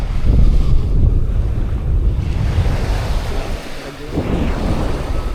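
Sea surf washes continuously near a beach resort, a steady broadband roar mixed with wind buffeting the microphone, with no clear speech over it.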